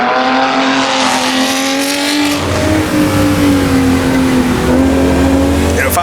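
A V12 sportscar engine in the Assetto Corsa racing game, revving high and loud, its pitch rising then dropping through gear changes and falling away as it climbs again, with someone talking over it.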